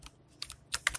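Fingers tap out a few quick keystrokes on a computer keyboard, a short close-up burst of clicks with no talking.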